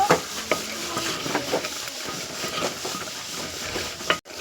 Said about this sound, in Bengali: এবারে আমি মাংসটাকে একটু ভালো করে কষিয়ে নেব